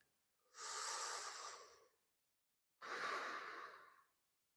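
Two slow, deep breaths taken while resting in yoga child's pose, each a soft, airy exhale of about a second and a half, close and quiet with silence between.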